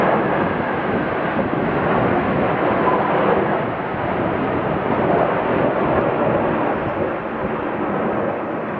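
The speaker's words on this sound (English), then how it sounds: "They did the flyover. I got really cool footage of fighter jets" A steady, loud jet engine roar fills the whole stretch, a broad rushing rumble from fighter jets flying overhead with slight swells and no pauses.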